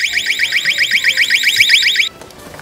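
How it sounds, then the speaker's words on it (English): Radians eyewash stand alarm blaring loudly and close with a rapid, warbling electronic siren tone for about two seconds, then cutting off abruptly to quiet. "I'm simply just gonna let go of the plunge button on our eyewash alarm"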